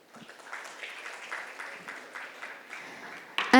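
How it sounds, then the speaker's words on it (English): Audience at a corporate panel discussion applauding the moderator, moderate scattered clapping that builds slightly, ending in a brief louder burst. "Let's have a huge round of applause for the moderator."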